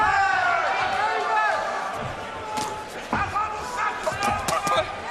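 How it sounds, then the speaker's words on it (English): Punches land during a GLORY kickboxing match, heard from ringside. The sharp smacks come in a cluster near the end, under commentators' talk and crowd noise. "You can hear those punches here ringside."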